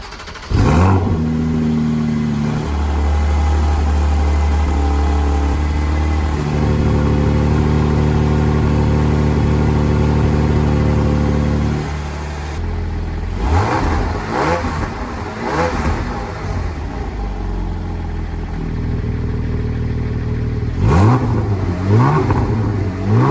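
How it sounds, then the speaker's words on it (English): Porsche Cayman GTS 4.0-litre flat-six settles into a steady loud idle, then gives several sharp revving blips rising and falling, close to the car, no talk. "Porsche Cayman GTS 4 litre."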